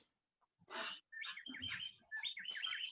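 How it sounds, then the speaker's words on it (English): Songbirds chirp and warble outside, drifting in through open windows of an office meeting room; a few fairly close, varied tweets and trills in bursts with no talk over them. "Who has birds?"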